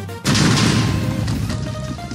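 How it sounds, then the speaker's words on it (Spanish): Explosions in a Chainsaw Man mod for Minecraft begin with a sudden loud blast, followed by a heavy crashing roar that slowly fades. "queremos probar cuánto daño harán estas explosiones"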